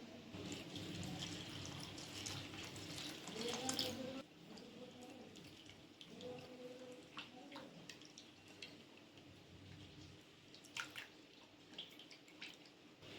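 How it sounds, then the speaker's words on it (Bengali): Flattened rice (chire) is rinsed in water for payesh, with close sloshing, squishing and dripping sounds, a louder pour near the start, then softer swirling and occasional drips. "চিড়েটাকে এরপর আমি ভালো করে জল দিয়ে ধুয়ে পরিষ্কার করে নেব"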